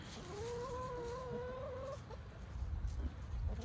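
Backyard hens cluck nearby. Two drawn-out warbling calls come first, followed by softer low murmuring and scratching in a quiet setting.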